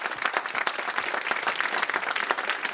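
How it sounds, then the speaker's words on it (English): Conference attendees at a keynote interview at IMS Ibiza 2012 give James Barton a continuous, close and lively round of applause, with dense overlapping claps throughout. "everyone in this room would like to give the man a good round of applause for his success"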